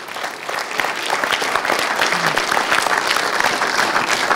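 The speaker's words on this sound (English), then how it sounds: "We have one final round of applause for our 3 finalists today." Loud, sustained audience applause for three finalists at a business school developers' competition, dense hand claps filling the room without a break.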